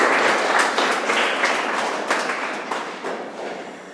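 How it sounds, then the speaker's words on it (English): Audience applause after a networking talk, a dense wash of many hands clapping that rings out steadily near the listener and slowly fades over a few seconds. "Huge round of applause for you guys, please."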